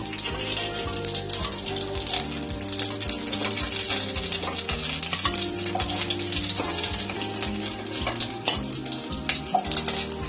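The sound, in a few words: fish frying in oil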